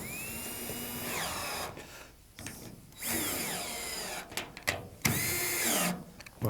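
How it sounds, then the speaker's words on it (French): A cordless electric screwdriver drives and tightens bolts on the wall panels of a Waterair pool kit during installation, with three loud whirring bursts that rise in pitch as each bolt runs in and briefly stalls, separated by short pauses. "je vous conseille évidemment la visseuse électrique, enfin la visseuse sans fil"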